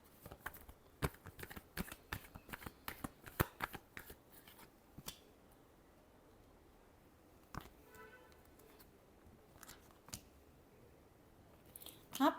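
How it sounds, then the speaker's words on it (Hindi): Tarot cards being shuffled close by, a quick cluster of light crisp card flicks and taps at the start, then a quieter stretch with a few scattered clicks and a brief burst of handling at the end. "last shuffle"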